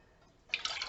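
Warm liquid lotion mixture for dandelion lotion pours from a double boiler into a container, a brief faint trickle that starts suddenly and splashes lightly for under half a second.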